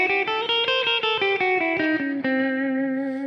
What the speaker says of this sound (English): I'm going to do a half whole diminished scale on A.